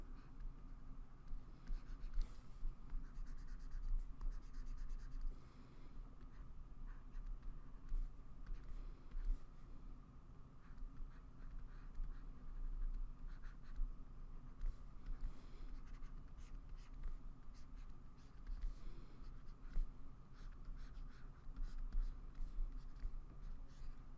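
Faint, steady scratching of pencil-tool strokes drawn over a picture runs continuously in a quiet room, with small clicks and light scraping pulses and no speech.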